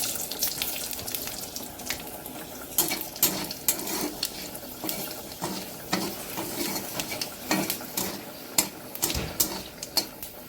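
Panch phoron spices fry in hot oil with chillies in a Bengali home kitchen, giving a steady close crackling sizzle broken by sharp clicks and scraping stir strokes, with no talking.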